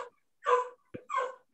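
A dog lets out two short, whiny barks with brief yelps and a whimper between them, close and clear against silence.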